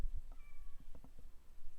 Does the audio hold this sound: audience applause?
no